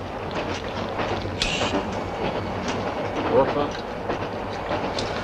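A moving passenger train rumbles steadily, its wheels clicking over rail joints in a repeating rhythm, with occasional brief squeals and knocks, and faint talk underneath.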